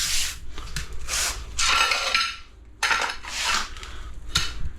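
Screed mortar mud for a shower base is mixed by hand, with repeated gritty scraping strokes in uneven bursts, close and fairly loud, and no talking.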